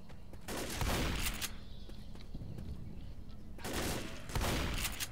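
Gunfire in the zombie shooter Left 4 Dead, likely a shotgun, fired during a construction site level: two dense bursts of loud shots, the first early and the second near the end, separated by quieter game ambience.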